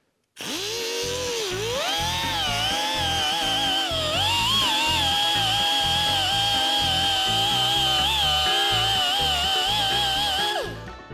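Grinder fitted with a sanding disc blending a seam weld on a custom roadster bumper, a loud steady high whine that rises as it spins up, holds for about ten seconds with slight pitch wavering, then winds down, with no talking.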